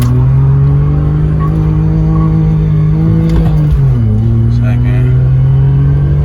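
A BMW E46 drift car's engine revs steadily in first gear to about 3,000 RPM, a loud close droning hum that dips and shifts pitch midway, with the tone settling lower afterward.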